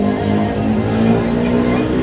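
Big bike motorcycle engine revving, a loud, close, continuous rumbling drone held steady throughout with no speech over it.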